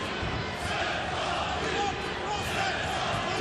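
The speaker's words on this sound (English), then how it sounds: "The crowd are getting into it as well." A large arena crowd at a Bellator MMA prelim fight roars in a steady, dense wash of cheering that never lets up, with no clear voices standing out.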